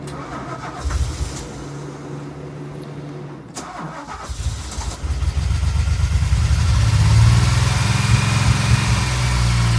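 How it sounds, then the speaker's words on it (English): A DeLorean engine cranks and fires up, then settles into a loud, steady, high idle that runs close to the end. "Well, it fired up, but idle's still high."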